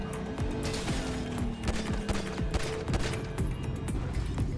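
Gunfire in GTA 5, shots fired from a moving vehicle during a chase, crackling in rapid bursts over engine and street noise throughout, steady and fairly loud.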